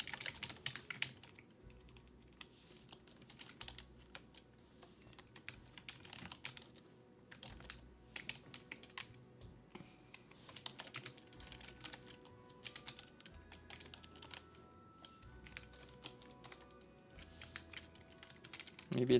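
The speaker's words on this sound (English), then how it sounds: "I pick up a lot more keyboard noise now." A computer keyboard clacks in quick, irregular bursts of keystrokes at fairly close range throughout, with a low background hum underneath and brief pauses between runs of typing.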